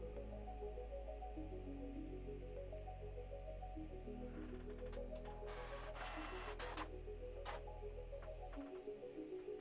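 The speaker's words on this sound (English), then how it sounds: "my printer just woke up and it's singing the song of its people" A home printer running through a print job, its mechanism ticking and whirring steadily for several seconds over a low steady hum, with some brief louder clicks and a rush of motion near the middle before it goes quiet.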